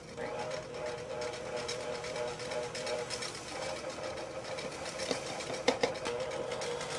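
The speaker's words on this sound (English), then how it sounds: "And beat that meringue now until it's stiff." An electric mixer runs steadily, beating meringue as maple sugar is added, with a continuous motor whir and a few brief clatters near the end.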